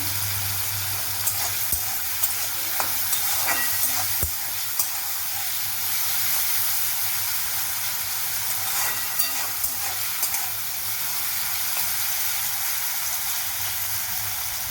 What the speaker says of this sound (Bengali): আলুগুলো লাল করে ভাজতে হবে।